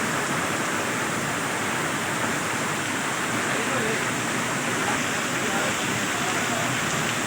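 Heavy stormy rain pours down steadily in Samani valley's Chowki bazaar, Kashmir, a dense, loud, unbroken roar filling the whole stretch.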